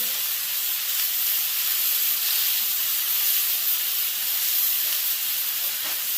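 Ground beef seasoned with taco seasoning and black pepper sizzles steadily on a Blackstone griddle as it is mixed, a loud even hiss with no pauses.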